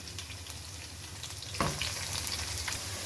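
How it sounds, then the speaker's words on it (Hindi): Finely chopped onion sizzles and fries in a pan with whole spices while cooking a chicken pulao, a steady close crackle with a brief louder burst of sizzling as it is stirred midway. "अब इसमें मैं 1 अदद बारीक कटा हुआ प्याज डालने लगी हूँ। इसको फ्राई करते हैं।"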